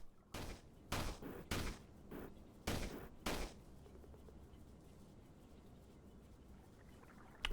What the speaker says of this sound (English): The launcher is launching the wrong way.